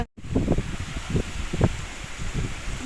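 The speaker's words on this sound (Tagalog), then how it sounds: "Lakas ng hangin." Strong wind gusting and rustling through leaves outdoors at Lumot Lake, Cavinti, with a soft broadband roar rising and falling in bursts.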